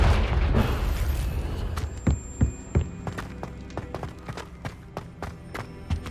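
Repeated Confringo spell blasts from Hogwarts Legacy, a string of sharp booming bursts and pops firing in quick succession over a dense, rumbling game soundscape, loud and close.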